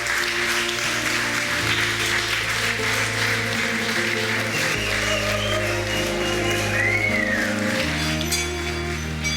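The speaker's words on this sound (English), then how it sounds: "Let's give them a big clap." Wedding guests applaud the newly married couple with a steady, sustained patter of clapping, blended under music that plays throughout.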